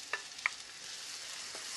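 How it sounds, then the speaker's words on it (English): Aromatics sizzling in a hot wok for pork larb, a faint steady frying hiss broken by a couple of small sharp crackles or utensil taps. "So now in we go with the aromatics. Gotta love that sizzle."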